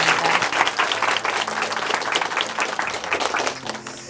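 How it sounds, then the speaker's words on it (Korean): A church audience breaks into loud, sustained applause for a brother who has just finished speaking, a dense wash of many clapping hands that holds steady for the whole stretch and eases slightly near the end. "우리 엄순용 형제님께 다시 한번 큰 박수 부탁드리겠습니다."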